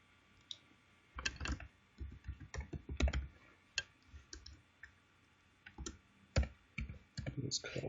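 Sharp, irregular computer mouse clicks and keyboard typing taps sound close and quiet, with occasional soft speech between them.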